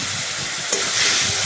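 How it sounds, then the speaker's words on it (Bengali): A splash of water hitting a hot pan of fried potatoes, bursting into loud, close hissing steam and sizzling that swells after a sharp spit midway and holds to the end. "এরপরে অল্প পরিমাণে জল দিলাম"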